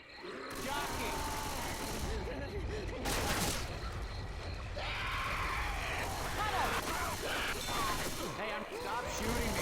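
Rapid gunfire in the zombie shooter Left 4 Dead 2 crackles in sustained bursts, loud and close, with zombie screams and a voice talking over the chaotic fight.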